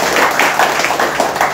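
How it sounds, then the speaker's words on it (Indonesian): Applause from an audience at a visiting group's reception, a steady close wash of clapping hands with rhythmic swells throughout the short stretch. "Tepuk tangan Bapak Ibu."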